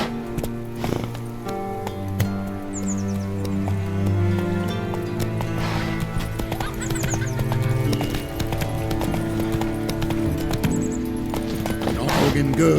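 Geralt's horse Roach gallops in The Witcher 3, a steady rhythmic clip-clop of hooves running close and continuous over music, with a brief whinny and a voice speaking at moments.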